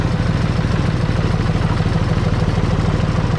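A two-wheel walking tractor engine runs steadily at close range while pulling a vehicle stuck in mud, giving a loud, even, rapid thudding chug with no pauses.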